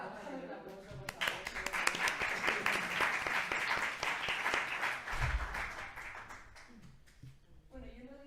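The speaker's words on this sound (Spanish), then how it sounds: "vamos a hacer un aplauso, por favor." Audience applause at a talk fills the room steadily for several seconds as many hands clap together, dense and sustained, then fades out while a voice starts speaking at the end.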